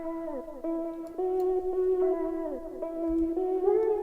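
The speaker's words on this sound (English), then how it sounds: "made this vocal chop that sounds like this" Filtered vocal chop from a dance music track run through a chorus effect, a pitched synthetic voice stepping through short sustained notes with sliding transitions, moderately loud and alone.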